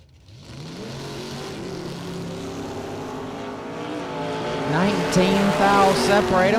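A Corvette Roadster drag racing car at the start line, its engine rumbling loud and steady with a rough idle, then revving harder and rising in pitch over the last two seconds.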